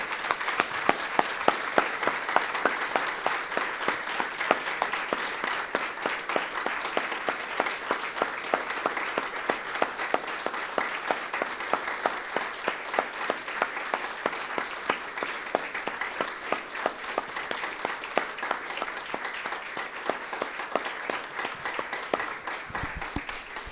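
A church congregation at a Sunday service gives long, steady applause, dense rapid clapping sustained throughout at moderate loudness with no talking.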